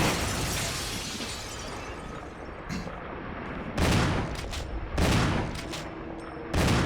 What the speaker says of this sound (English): Fire 3 times there, and then you can fire at him twice here